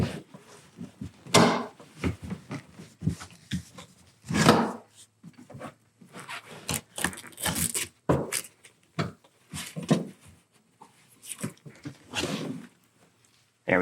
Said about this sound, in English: It's a little tricky, you have to wiggle them out.